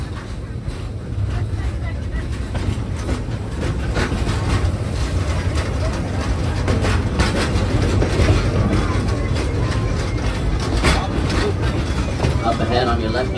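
The Frisco Silver Dollar Line train, locomotive #504, rolls along the track with a continuous rumbling, clattering wheel noise at steady loudness, while people talk faintly over it.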